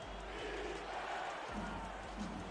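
A stadium crowd at a football game chants together, a low, faint roar of many voices carrying on steadily from a distance.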